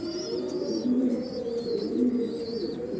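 Several Pakistani high flyer pigeons coo continuously in low, rolling murmurs nearby on a pigeon farm, with faint higher chirps above them.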